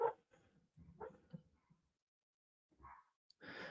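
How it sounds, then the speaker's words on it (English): A pet dog barks in the background indoors, giving a few separate, fairly faint woofs and yips with short pauses between them. "I got a dog barking in the background."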